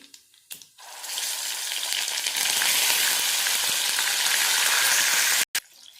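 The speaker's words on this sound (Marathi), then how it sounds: "आपण हे दोन मिनटासाठी इथे छानपैकी ते आपल्याला फ्राय करून घ्यायचे आपल्याला वांगे" Eggplant pieces frying in hot oil with popped mustard seeds and cumin, a loud, steady broadband sizzle that bursts in after a brief quiet start and holds for several seconds before cutting off near the end.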